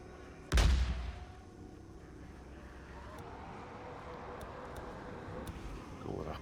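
A flashbang detonates in the zombie-survival video game Days Gone, a single loud burst near the start that quickly fades into a steady low rumble of game ambience for the rest of the moment.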